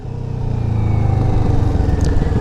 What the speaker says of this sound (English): the Kawasaki Vulcan S 650 Arrow Exhaust